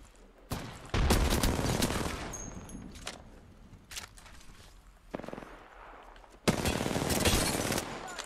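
Bursts of automatic gunfire and firefights in the battle royale game Apex Legends during a ranked match, loud sustained volleys broken by short gaps, with heavy rapid fire returning near the end.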